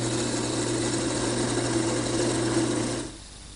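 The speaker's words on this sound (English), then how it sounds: "First I'll turn the dowels to size." A woodworking lathe turns wooden dowels to size for a rocking chair, giving a steady loud motor hum with a constant whirring drone and cutting noise, then abruptly dropping to a quieter rundown near the end.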